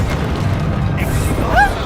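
Bombarda blasting spell explosion in the Hogwarts Legacy video game: a sustained low, rumbling boom fills the whole stretch at steady loudness, with a couple of faint whistling magical tones near the end.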